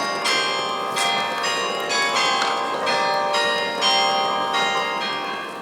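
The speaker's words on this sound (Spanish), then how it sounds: "Pero ¿por qué tocan aquí música heavy con las campanas?" Church carillon bells at the Santa Catalina church in the Netherlands ring out a heavy rock riff as a loud, resonant melody of struck bell notes with overlapping ringing tails.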